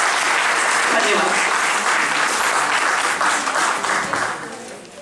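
Loud, sustained applause from an audience after a comic parody recital at a Sankranti event, dense clapping continuing for about five seconds before starting to taper off.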